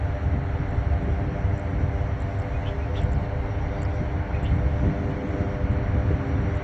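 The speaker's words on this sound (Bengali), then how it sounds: "একটি বিমান ল্যান্ড করবে তার জন্যে এই জন্যই দাঁড়িয়ে আছে সেই বিমানটি এইদিকে আসতেছে" A steady, broad engine roar of an airliner drones continuously, fairly loud and unchanging, as it approaches from a distance to land.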